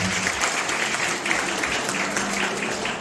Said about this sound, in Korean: 자, 박수 부탁드겠습니다